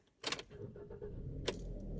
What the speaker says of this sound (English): you want to turn it and hold it to hear the engine crank, and when the engine starts, you're going to release it.